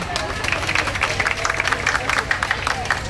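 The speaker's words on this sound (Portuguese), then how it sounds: "Palmas para ele, gente." Steady applause from a crowd at a running race trophy ceremony in Miguel Pereira, dense clapping throughout at an even level, with a murmur of voices underneath.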